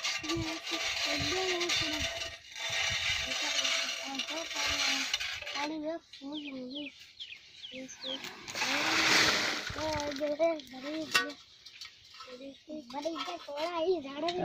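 Water gushes and splashes in bursts from a manually bored tubewell in rural Punjab, Pakistan, while several people talk loudly nearby, with clanking metal and a voice mixed in.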